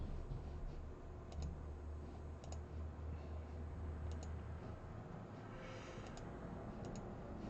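A computer mouse clicks while work is being exported to Google Drive: a few faint, sparse single and double clicks spread across the clip over a steady room hiss.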